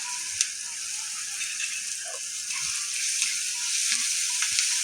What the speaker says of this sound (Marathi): आणि हळद आणि लसूण टाकूया. आणि ह्याला छान मिक्स करून घेऊया.